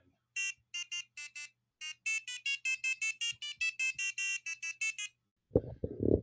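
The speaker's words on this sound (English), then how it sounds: "So there's the sound buzzer." An electronic buzzer plays a piano tune as a demo, a series of sharp, bright beeping notes in a quick melodic rhythm, then a short burst of talk at the end.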